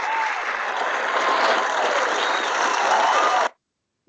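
A television studio audience breaks into loud, steady applause for about three and a half seconds, then the clapping cuts off abruptly into silence.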